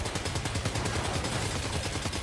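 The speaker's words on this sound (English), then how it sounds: "We're going to have to rely on our assault rifle." Rapid assault rifle fire in the video game Death Stranding 2, a dense continuous burst of close, loud shots with no talking.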